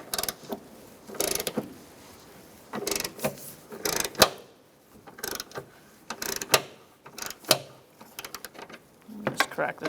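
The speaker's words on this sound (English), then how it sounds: "Using a 14 millimeter socket, we're going to take out these bolts" A ratchet with a 14 mm socket loosens strut bolts on a 2004-2009 Mazda 3 in bursts of clicking and creaking. The bursts are separated by pauses, and the sound is close and fairly loud.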